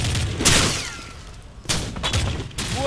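Call of Duty gunfire in a bomb sabotage match set in Rio's Manguinhos, several loud close bursts and bangs separated by short lulls.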